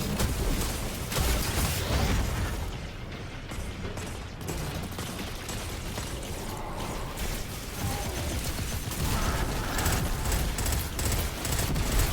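Anarchy grenade launcher and grenades going off in a Destiny 2 Grandmaster strike: a dense, continuous barrage of mechanical clatter and rapid blasts, loud and steady throughout with no talk.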